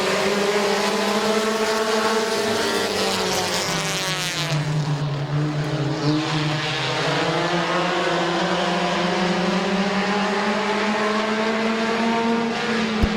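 Race cars roar around a speedway oval during an eight-lap heat race, several engines blaring continuously and loud with rising and falling pitch as they circle through the turns.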